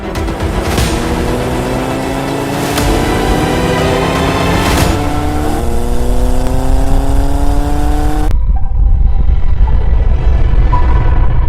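A Bugatti Chiron Super Sport 300+ revs hard, its loud engine climbing through repeated rising pitch sweeps with brief shift breaks, then settling into a rough, steady roar.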